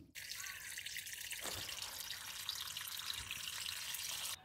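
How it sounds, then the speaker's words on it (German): Pool water drains through a siphon hose in a steady, close rushing and trickling flow that continues evenly for several seconds, with no talk over it. "sobald ich jetzt halt meine Hand nämlich wegmache, wird das Wasser auch schon ganz von alleine nachlaufen und der Pool entleert sich"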